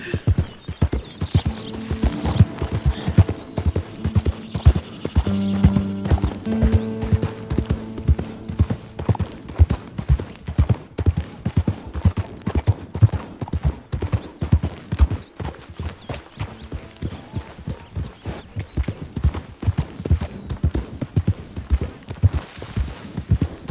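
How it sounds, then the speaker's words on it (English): Rhythmic hoofbeats of horses galloping in Red Dead Redemption 2, a steady clip-clop running the whole time, with a brief neigh early on. "Wild horses!"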